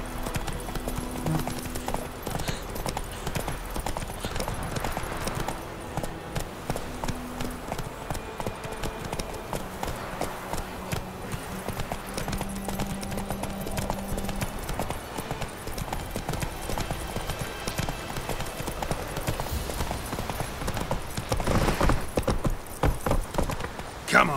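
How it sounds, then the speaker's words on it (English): Horse hooves clip-clop at a steady walking pace in The Witcher 3: Wild Hunt, a continuous rhythmic clatter under game ambience and music, with someone speaking occasionally. "Come on, Roach. Slow now. Whoa"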